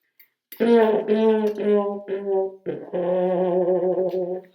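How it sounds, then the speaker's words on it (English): A trombone with a wah-wah mute plays short and sustained notes, its tone opening and closing with a vocal wah-like quality, close and moderately loud. "other mutes like this that you get the wah-wah mute."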